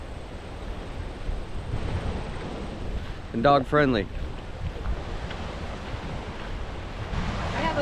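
Lake Huron waves wash onto a beach in a steady, broad rush of surf with wind buffeting the microphone, and a person speaks briefly in the middle over the water.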